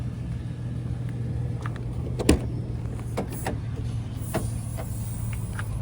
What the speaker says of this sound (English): Power windows, locks and mirrors.